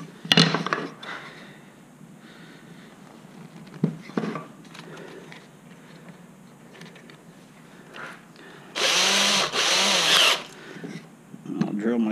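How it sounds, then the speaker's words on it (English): A power drill whirs in two bursts, the second long and loud, drilling a screw hole in the wood of a box turkey call, after quieter knocks and handling noises. "I'll drill my screw hole here."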